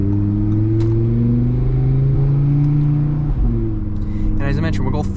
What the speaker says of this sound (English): it just really does a great job of picking up the pure sound of this this exhaust